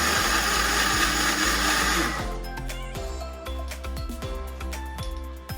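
A mixer pulsing cake batter with baking powder for an Oreo cake: loud continuous whirring that cuts off after about two seconds, then short repeated bursts of motor noise.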